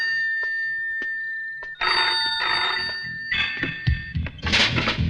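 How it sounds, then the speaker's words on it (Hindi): An old telephone bell rings in short repeated bursts over a steady tone, then a busier stretch of clatter and movement follows as the ringing continues faintly. "टेलीफोन?"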